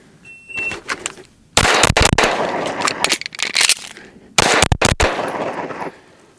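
A Glock Gen 6 pistol fires during a reload drill at a target range: two close, loud strings of rapid shots, each a few seconds long, with a pause between them for the reload.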